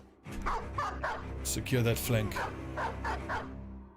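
Dog barking in the video game Battle Brothers, a few yips and barks mixed with game sounds while a person talks over them.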